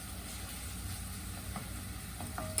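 Curry pastes hitting a pan of sautéing lemongrass for a Thai coconut crab bisque, a steady low sizzle with a faint hum beneath and a few soft clinks of a utensil toward the end.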